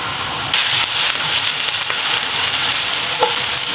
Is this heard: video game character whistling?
no